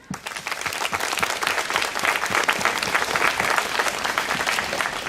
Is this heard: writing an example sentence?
no